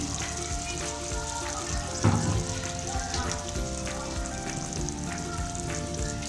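Chicken karahi sizzling and frying steadily in a pan as yogurt goes in, a brief burst of louder crackle near the start, then an even, continuous hiss.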